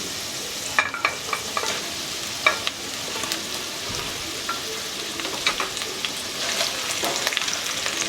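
Potatoes and okra fry together in a pan with a continuous close sizzle, broken by a few sharp clinks and scrapes of stirring, and no voices present.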